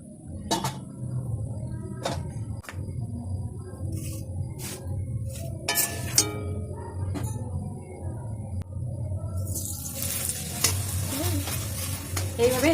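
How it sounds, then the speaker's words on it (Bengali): Cabbage-stuffed parathas fry in oil in a pan, with a soft, continuous sizzle. Spatula scrapes and taps recur through it, and a louder, hissing burst of frying swells near the end. "এইভাবে এটাকে তেল দিয়ে ভেজে নিতে হবে, পরোটার মতনই ভাজতে হবে।"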